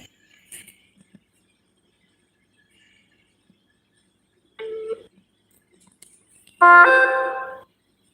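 A call-waiting tone from another phone line sounds during a call, with a short electronic beep followed a couple of seconds later by a longer, louder tone, with near silence around them.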